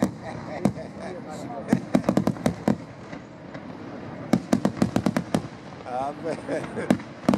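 Easter fireworks display in Lucca Sicula, Sicily, with sharp explosive bangs in irregular bursts and quick rapid-fire clusters, some near and loud, while people talk and call out in the background between blasts.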